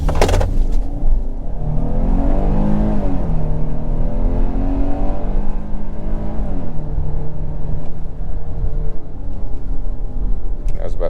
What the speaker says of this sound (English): Of course, we gotta do one more acceleration.